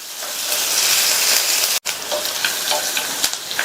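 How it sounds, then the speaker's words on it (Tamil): Onion fries in hot oil with three dried chillies, a loud, dense close sizzle that breaks off for an instant midway, then resumes with scattered spatter pops. "வெங்காயம்லாம் ரொம்ப வதங்கணுங்கிற அவசியம் கிடையாது. லைட்டாக வதங்கினா போதும்."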